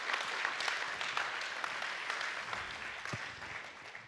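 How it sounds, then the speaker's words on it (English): Congregation applause during a church sermon, a sustained wash of clapping at moderate distance that holds steady and eases slightly toward the end, with a brief low thump. "I think God deserves a round of applause"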